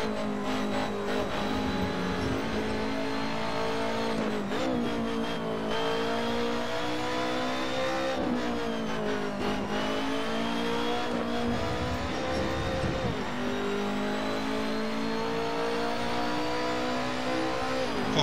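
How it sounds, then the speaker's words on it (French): A BMW race car roars around a track in Assetto Corsa, its engine note rising and falling through repeated shifts and corners. The sound is loud and sustained and comes without any voices. "Ah, typiquement le bruit de BM ça."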